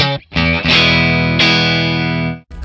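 Stratocaster on the neck pickup through a Klon-style overdrive captured on ToneX, edge-of-breakup tone: a short picked note, then a loud sustained chord ringing out, restruck once and decaying to silence.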